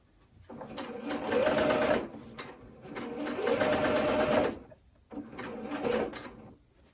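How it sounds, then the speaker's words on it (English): Sewing machine stitching a seam across a men's dress shirt in three bursts, each running steadily for one to two seconds, separated by short pauses; close and clear with no talk. "Okay, and then just keep sewing across."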